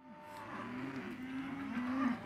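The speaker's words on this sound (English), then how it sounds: "Over in the feedlot, Trey and Ike are sorting finished cattle that'll be shipped next week, while NCBA is filming the action." Cattle in a feedlot let out a single drawn-out moo that rises in strength before fading, heard at moderate distance with no voices.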